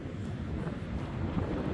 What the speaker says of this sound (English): It's a cold, windy evening here in South Promenade